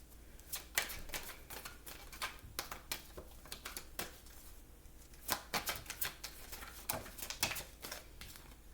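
Oracle cards being shuffled by hand, a steady run of crisp riffling slaps and flutters in repeated bursts, close and fairly quiet, with no talking.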